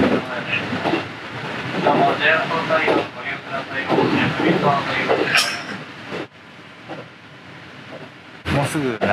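A train pulls into Nagoya Station, its steady rail rumble and air hiss running throughout under a voice talking nearby, easing off near the end before a brief sharp burst.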